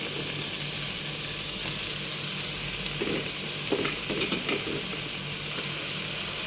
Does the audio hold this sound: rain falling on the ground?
no